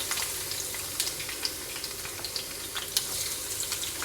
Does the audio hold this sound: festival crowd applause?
no